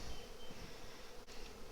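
Honey bees crowd a hive box nearly full of honey, giving off a dense, steady, close-up buzz with no gaps.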